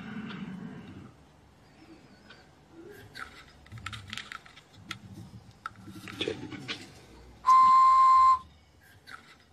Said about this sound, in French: J'ai une préférence pour les sifflets à 2 tons.